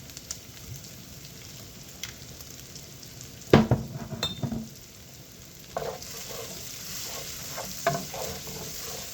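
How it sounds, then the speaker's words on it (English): Garlic frying in olive oil in a pan crackles and sizzles steadily, with a burst of loud clattering and scraping from a utensil in the middle and quieter stirring afterward. "I'm going to add in my garlic because I don't want to burn it."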